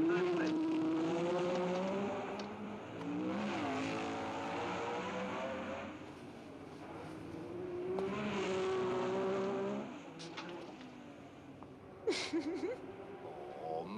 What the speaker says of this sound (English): Stoddard can't quite squeeze his BRM past Sarti's Ferrari.